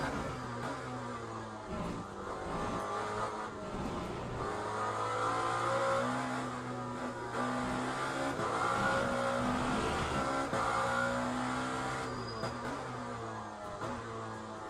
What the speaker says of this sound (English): this is Lamborghini hypercar.